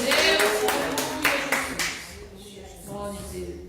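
Church congregation clapping hands together in a dense, rhythmic burst that is loud at first and then thins out, with voices and talk mixed in throughout.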